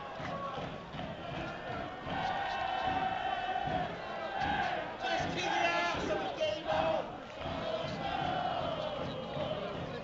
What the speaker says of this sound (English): Now that's brought a cheer.